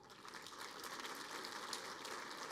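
An audience claps together to vote for a contestant in a business pitch event, a steady wash of distant applause that holds evenly for the whole stretch without any voices on top.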